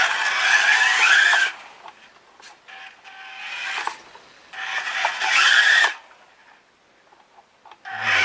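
A Subotech BG1510A 1:24 scale RC quad's soft tires spin and squeal on smooth pavement, two long bursts of loud high-pitched whine and scrubbing separated by quieter motor whirring and brief clicks, close by.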